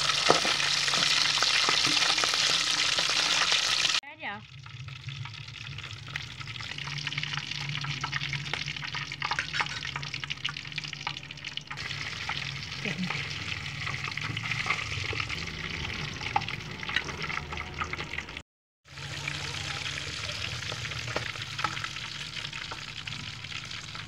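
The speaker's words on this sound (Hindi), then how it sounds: "एक एक करके हम सबको घी में जो है वो भून लेंगे।" Fish pieces fry in hot ghee with a loud, steady, close-up sizzle and crackle that continues across several abrupt cuts.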